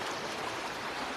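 A steady river rushes with a continuous broadband wash, even and unbroken throughout, moderately quiet and with no voices over it.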